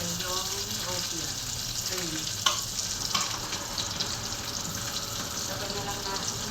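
Onions sizzle in a hot pan while butter shrimps are being cooked, giving a steady, moderately loud crackling hiss with a few sharper clicks of utensils.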